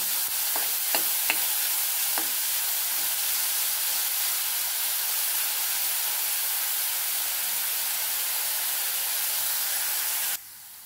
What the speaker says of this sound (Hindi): आता कांद्या बरोबर सगळे तळसून घेऊया